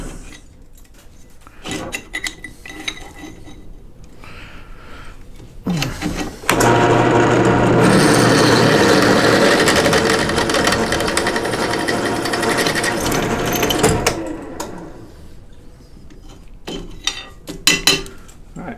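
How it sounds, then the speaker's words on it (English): A power drill bores mounting holes for a Road King windshield on a 1986 Harley-Davidson Heritage Softail, a loud steady whir lasting several seconds, bracketed by quieter handling clatter and brief talk. "All right, so I got my holes drilled, 1 and 2 on both sides."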